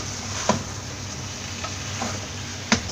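Masala-coated chicken for Kerala-style chicken chukka being stirred in a frying pan, a soft steady sizzle broken by a couple of distinct scraping clacks of the spoon against the pan, close up with no talking.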